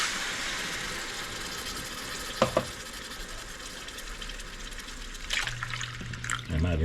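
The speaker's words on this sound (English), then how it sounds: "Now we add our coconut milk." Coconut milk pours into a pot for Guyanese metemgee, a steady liquid sloshing with a few brief splashes and clinks over a continuous kitchen hiss, with no speech.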